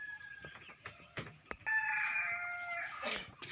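Chickens and a rooster on a local farm, with a crow rising and holding loud for over a second near the end, preceded by scattered clucks and short calls, fairly close.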